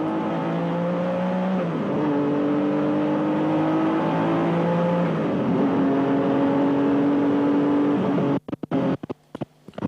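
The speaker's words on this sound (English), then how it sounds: "now we've got Mike Wilds out of the pits with the Porsche 962" A Porsche 962 Group C race car runs at Silverstone, its engine a loud, continuous roar with rising and falling pitch as it pulls through the gears, heard close and clear with no talk.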